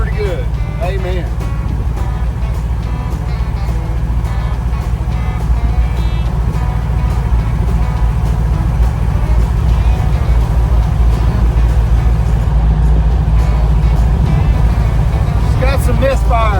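A 1955 Chevy engine runs while driving, misfiring and loading up a bit. Its loud, steady low rumble continues the whole time, and a voice is heard at moments.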